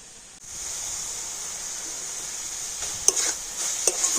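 Melted jaggery filling with crushed cardamom is stirred in a pan, a soft steady sizzle starting after a brief pause, with a couple of light spoon scrapes later.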